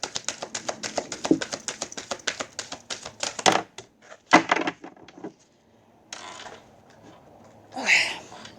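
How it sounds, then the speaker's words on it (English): Tarot cards are shuffled in a rapid run of crisp, clattering riffles, then a few slower taps and slides of the deck with short pauses between them. "Let's just do one more shuffle."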